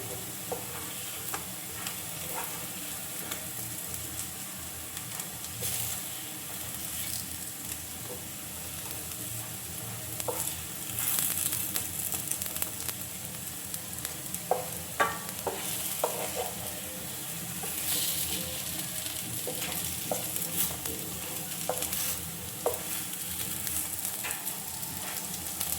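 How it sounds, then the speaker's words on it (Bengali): Makhana tikka pieces fry in a pan with a steady soft sizzle and occasional stirring and scraping clicks, heard close and without talk. "এইভাবেই দুটো সাইড যখন একটু ভালোভাবে ভাজা ভাজা হয়ে যাবে তখন এগুলোকে তুলে নেবেন।"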